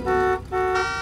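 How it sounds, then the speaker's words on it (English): Cartoon car horns beeping in a traffic jam, two sustained bright honks separated by a short gap, loud and close. "Beeping won't make the cars go any faster, Daddy Pig."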